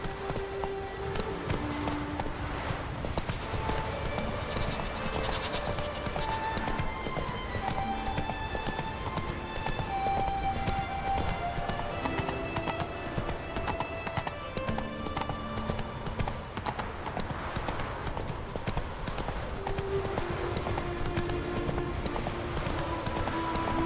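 Roach, a horse in the video game The Witcher 3: Wild Hunt, galloping with continuous rhythmic clip-clop hoofbeats, close and steady for the whole stretch, with occasional whinnies and music underneath.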